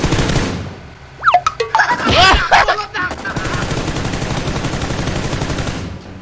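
Automatic weapons fire in an online shooter game as players fire at a vehicle near a bridge: scattered sharp shots and impacts early, a dense cluster of blasts in the middle, then a long unbroken rattle of rapid gunfire to the end.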